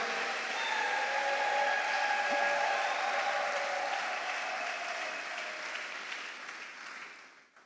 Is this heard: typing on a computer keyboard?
no